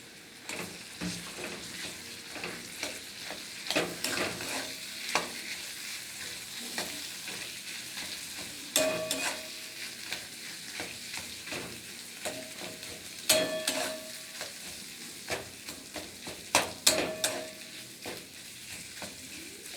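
Potatoes frying and being stirred in a pan, a soft continuous sizzle broken by repeated scraping and clattering strokes of the spoon, irregular and fairly close.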